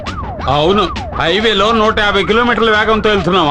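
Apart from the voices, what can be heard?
vehicle siren sound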